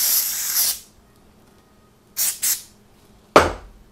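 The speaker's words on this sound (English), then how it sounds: "it's already got activator sprayed on it" Short bursts of glue activator sprayed onto a PVC gecko enclosure: one long hiss, then two quick puffs, and a final sharp spray, each close and fairly loud with quiet gaps between.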